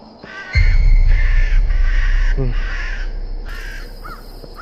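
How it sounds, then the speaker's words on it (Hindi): Crows caw repeatedly at night amid the ruins of Bhangarh, harsh calls coming in several bursts over a steady low rumble of wind or background noise. "कौवे काव काव कर रहे हैं।"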